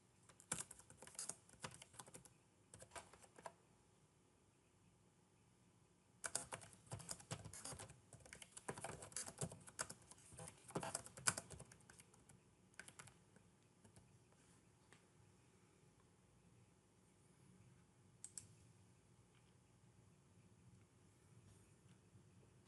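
Typing on a computer keyboard while entering a report: quiet, close clicking keystrokes in scattered bursts, a dense flurry midway, then sparse taps with long pauses.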